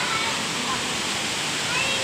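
Water pours down from above at a hilltop fort in heavy rain, a dense, steady rushing roar close by that masks everything else.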